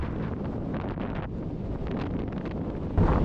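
Strong, blustery wind roars and buffets continuously on a mountain ridge top in Scotland, with heavy gusts rumbling loudly throughout.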